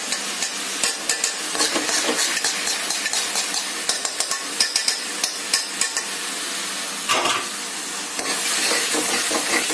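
Dal makhani masala with added cream sizzles in a pan, with a spoon stirring it in repeated, loud, rhythmic scrapes and knocks against the metal close by, and no talking.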